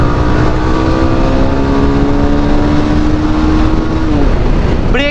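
A Bajaj Pulsar 220 motorcycle engine roaring loudly and steadily while riding, a constant close drone whose pitch holds then drops near the end, with no talk.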